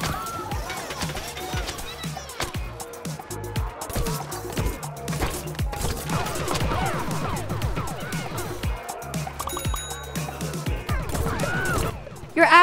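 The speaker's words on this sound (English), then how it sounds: "Who's shooting me?" In the online shooter Plants vs. Zombies: Battle for Neighborville, bursts of rapid cartoonish weapon fire crackle and pop amid splashy impacts, jumps and game effects, with a player talking over the action throughout.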